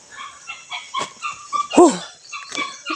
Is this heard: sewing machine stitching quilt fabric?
no